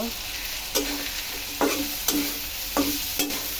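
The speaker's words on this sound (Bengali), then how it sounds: "আলুটা ভেজে নিলে বেশি ভালো লাগে আমার কাছে। এটা ভাজা ভাজা হয়ে যাবে" Potatoes fry with chili and salt in a pan, a steady sizzle punctuated by several sharp scraping stirs at irregular intervals, close and moderately loud with no talk.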